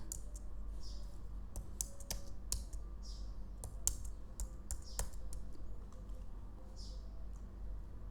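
Keys clack on a Mac computer keyboard in short irregular bursts of close, crisp taps over a quiet low background hum.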